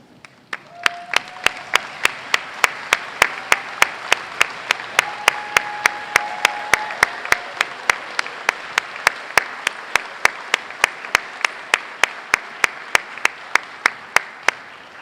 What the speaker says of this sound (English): the rest of us are going to give you another round of applause